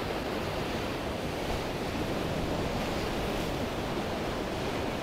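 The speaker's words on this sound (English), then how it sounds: "I'll wait for one of these waves to come up" Ocean waves surge and wash around a rock, a steady loud roar of surf and spray with wind buffeting the microphone, no voices.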